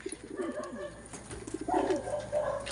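Soft, low cooing from a pigeon nearby, a few rolling coos in a row over faint background noise.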